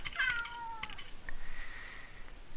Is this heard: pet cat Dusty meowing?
yes